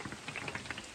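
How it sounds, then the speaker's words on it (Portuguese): Steady rain falls outdoors at Passadiços do Paiva, a dense patter of drops hitting surfaces with no voices, a constant wash of hiss for about a second at moderate level. "E a chuva não para."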